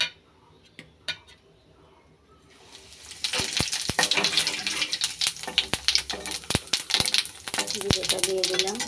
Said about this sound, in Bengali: তেলটা গরম হয়ে গেছে, এখন জিরেটা দিয়ে দেব।